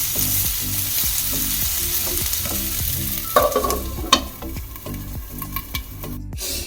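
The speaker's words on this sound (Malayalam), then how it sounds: "ഇടയ്ക്ക് മൂടി തുറന്നൊന്ന് ഇളക്കി കോവയ്ക്ക ഒരു വിധം വാടി മണം കുറയുന്നത് വരെ വാട്ടണം" Ivy gourd (kovakkai) sautéing in a pan for a Kerala-style curry, with a loud continuous sizzle and a regular rhythm of spatula scrapes as it is stirred, and no voices.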